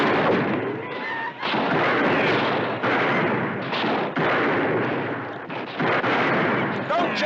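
Gunfire erupts in a Western set in a small Idaho frontier town, loud booming shots in dense, rapid succession with brief pauses, ringing and echoing throughout.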